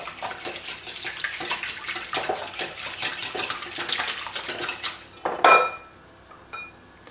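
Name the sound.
whisking two eggs with a wire whisk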